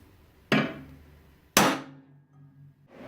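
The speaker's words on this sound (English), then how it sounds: "We're just gonna hammer these pieces in" Two sharp, loud hammer blows strike metal parts for a tricycle build, about a second apart, each ringing briefly with a clanging tail before fading.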